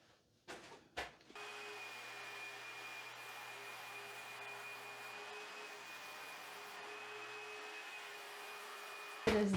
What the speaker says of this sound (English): It is that quick to do one coat of top coat with my sprayer.